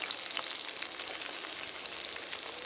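Green chillies and onion fry in hot oil, giving a continuous dense close sizzle with fine crackling and stirring, no voices.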